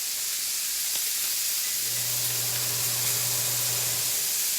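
A pan of cooking food gives off a constant loud sizzling hiss with a single soft pop near the start, while a low steady hum sits underneath for a couple of seconds.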